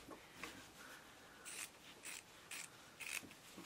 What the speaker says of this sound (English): take the world's smallest Teflon scissors and just cut out the back